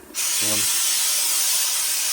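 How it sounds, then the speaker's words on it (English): Steam hisses steadily onto a fur felt fedora, a broad continuous spray starting abruptly and holding loud and close, with a brief low hum beneath near the start. "introduce a bit of steam"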